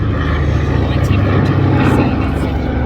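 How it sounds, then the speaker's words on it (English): A 1944 WWII propeller transport aircraft drones steadily and loudly at an air festival display, a continuous engine roar with a commentator's voice speaking over it. "Built in 1944, this aircraft is named Ready for Duty."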